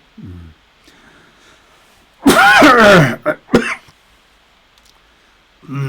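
A man coughs hard in a close, loud burst of harsh coughs and throat clearing, with a few shorter coughs after it and brief speech sounds before and after.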